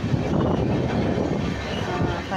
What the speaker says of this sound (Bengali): এখন একটু ট্রেনটা স্লো হলো